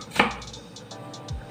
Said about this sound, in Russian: То же самое повторяю с болгарским перцем. Его тоже надо нарезать кубиком.